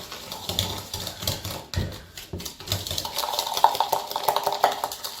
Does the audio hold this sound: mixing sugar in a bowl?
yes